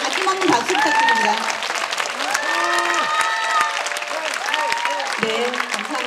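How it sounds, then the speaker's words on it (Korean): Concert audience applauding at a youth film and game music concert, steady dense clapping filling the space throughout, with a voice and tonal sounds heard over it. "여러분들에게 여러분 다시 한번 박수 부탁드립니다"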